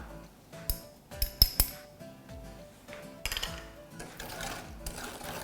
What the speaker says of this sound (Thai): ทีนี้เราคนส่วนผสมให้เข้ากันนะคะ ให้ตัวแป้งเนี่ยละลายเป็นเนื้อเดียวกับน้ำกะทินะคะ